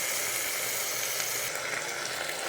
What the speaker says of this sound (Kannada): ಅದ್ರ ಜೊತೆಗೇ ಬೀಟ್ರೂಟ್ ಹಾಕೊಳ್ಳೋಣ ಮತ್ತೆ ಸ್ವಲ್ಪ ಫ್ರೈ ಆಗಲಿ